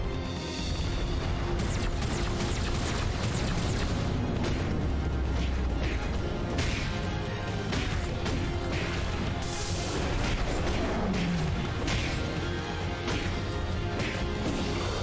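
Missiles launch and detonate in the mecha action shooter M.A.S.S. Builder, a dense, continuous barrage of crashes, booms and mechanical clatter at steady loudness, with one falling whistle near the end and no clear talk.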